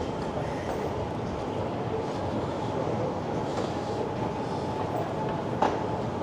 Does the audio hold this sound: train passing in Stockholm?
yes